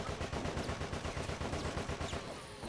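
Rapid bursts of video game gunfire crackle nonstop, loud and close, a dense automatic rattle with overlapping shots throughout.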